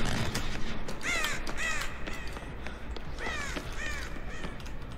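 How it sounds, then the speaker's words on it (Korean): Several crows caw in harsh, repeated bursts inside the Dead by Daylight video game, loud and close over a steady ambient background, with calls clustering in pairs as the birds scatter and fly off. "까마귀 날았어"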